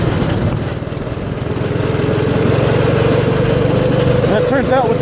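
A Predator 212cc single-cylinder 6.5 horsepower go-kart engine with an aftermarket exhaust runs loud and close in a steady, throaty drone that climbs in pitch near the end as the throttle opens.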